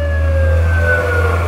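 A rescue vehicle siren sounds near temple grounds in Thailand: a loud, steady wailing tone that slowly glides in pitch over a low rumble, with no talk.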